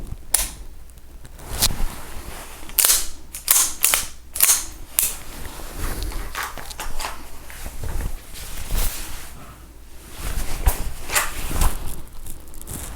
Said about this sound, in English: I'm gonna clear my garments, grab my gun, bring it out, take the safety off, pull the trigger